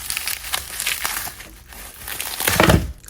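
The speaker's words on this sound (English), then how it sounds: "Looks like I'm just gonna have to rip it open." A package holding an iPod Touch is ripped open by hand, close crinkling and tearing of plastic and paper in uneven bursts, ending in a louder rip.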